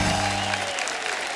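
Studio audience applause on a comedy talk show, a dense burst of clapping that starts loud and thins out over about a second.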